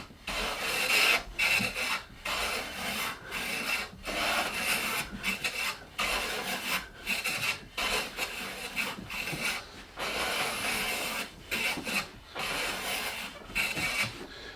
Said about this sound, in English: when you're starting your cut, have all your weight on the knob, start planing, transition to the back of your plane